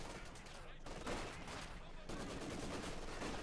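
Bursts of machine gun and light machine gun fire crackle through a Company of Heroes 2 battle between German and Soviet forces, dense rattling gunfire with brief pauses, loud and busy throughout.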